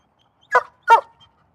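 A dog barks twice in quick succession, two short sharp woofs close by, followed by quiet.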